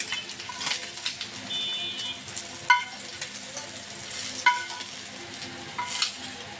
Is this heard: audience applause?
no